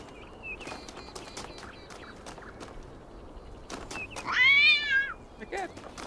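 A cat meows once, clear and fairly loud, in the video game The Talos Principle 2, following a run of sharp clicks and light game sounds.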